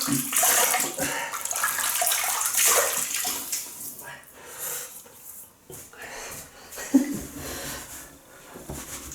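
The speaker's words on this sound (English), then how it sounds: "So I just wet the face." Water splashes and drips as hands wet a face before a shave with a Gillette Ball End Tech safety razor at a sink, a close, irregular, fairly loud sound with some brief breathing.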